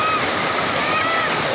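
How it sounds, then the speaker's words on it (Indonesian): The Cigentis waterfall at a recreation spot in Karawang, a loud, dense, continuous roar of falling water heard close and unbroken throughout. "Air terjunnya di atas."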